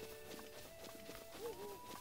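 Horse hooves in Zelda Breath of the Wild, soft irregular clip-clop steps and game ambience, faint and low in the mix under a quiet musical tone.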